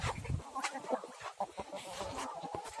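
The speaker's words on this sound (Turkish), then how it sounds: "Tavuklar bunlar arkadaşlar." Village chickens cluck and murmur nearby in short, overlapping bursts, with a few louder squawks amid low farmyard background noise.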